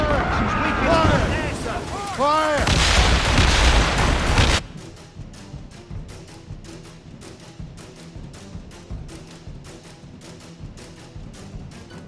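Ship cannon fire in a naval battle in Assassin's Creed Rogue, loud booming volleys and chaotic battle noise for several seconds, then a quieter stretch of rapid distant crackling shots.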